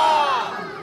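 A crowd at a Pakistan independence celebration in Cornwall, Canada shouts a slogan response together, a loud massed cry that fades over a second.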